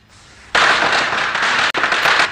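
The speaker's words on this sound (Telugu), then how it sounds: "దీపావళి కాదు కానీ క్రాకర్స్ పేలుతుంది." Firecrackers burst in rapid, crackling succession after a quieter lead-in, a loud dense stream of pops with a brief gap, heard close and without talk.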